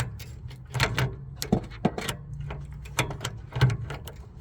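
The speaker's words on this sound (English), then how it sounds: "until I get this ratchet on here" A ratchet wrench works on a bolt during a front and rear brake pad job on a 2014 Kia Optima EX, giving close, irregular metallic clicks and clatters in short bursts.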